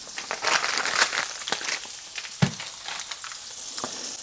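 Eggs frying in butter in a pan on moderate heat, a steady close crackle and sizzle with scattered pops and a soft scrape or clunk of a utensil partway through.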